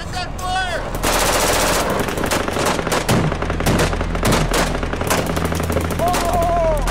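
Machine guns fire in a frontline combat zone with a platoon of soldiers. Loud, close bursts repeat steadily, with shouts mixed in and voices heard under the gunfire.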